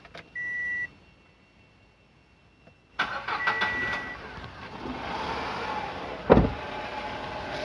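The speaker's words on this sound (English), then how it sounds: "So the car is switched on right now." A car engine starts with a brief electronic beep first, then after a pause the crank catches and settles into a steady mid-pitched idle, close by, just before an air lift is used to raise the car.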